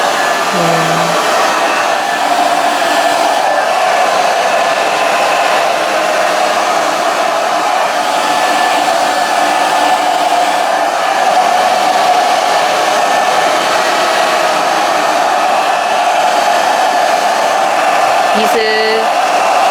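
A hair dryer blowing onto hair held over an upright comb during a spaniel in-curl blow-dry for a hairdressing exam, a loud steady whoosh lasting the whole time with faint voices briefly beneath.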